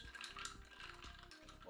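A spoon stirs an apple cider vinegar drink over ice in a glass, ice cubes clinking and rattling in quick repeated knocks, close and fairly quiet, with no talking.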